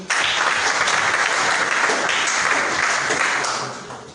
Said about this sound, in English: We may applaud you once again.